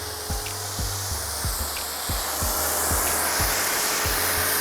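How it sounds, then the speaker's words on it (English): A steady broadband hiss of snow foam spraying onto a car runs throughout, with a rhythmic low thumping pulse beneath it, fairly close and loud. "it's just giving the car snow foam"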